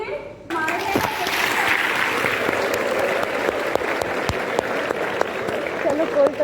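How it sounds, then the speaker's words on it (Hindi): Students clap together in a room, a dense, steady round of applause that runs continuously from start to finish, with a few voices of children mixed into the crowd noise. "एक राउंड ऑफ अप्लॉज अपने लिए मारेंगे"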